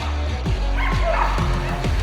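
Dog barking in quick, close yips and bow-wows during a protection training demo while the dog is held in a heel, with repeated short barks over a steady low background.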